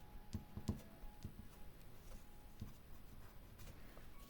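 An HB pencil makes faint, gentle strokes on paper, a few soft scratchy taps clustered early and then sparse light touches in a quiet room.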